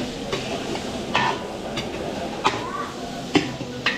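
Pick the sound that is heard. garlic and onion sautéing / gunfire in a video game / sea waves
garlic and onion sautéing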